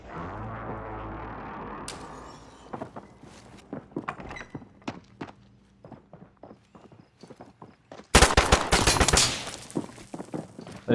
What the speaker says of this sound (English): They're shooting at you.